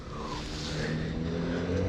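A small Mercedes-AMG car engine hums and builds steadily, a continuous mid-level motor note that rises slightly toward the end, with no talking over it.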